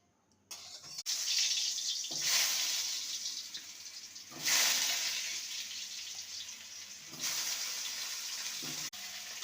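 Chunks of elephant foot yam frying in hot mustard oil, heard as loud hissing sizzle bursts that swell and ease repeatedly over a quieter bubbling base, close by with no voices.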